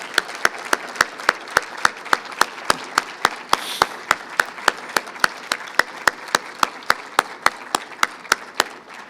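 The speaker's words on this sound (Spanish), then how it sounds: "para quien de veras quiero pedir un aplauso por su fortaleza" At a memorial tribute for an architect, evenly spaced sharp claps ring out in a steady rhythm over a faint room background, more like slow rhythmic clapping than a dense burst of applause.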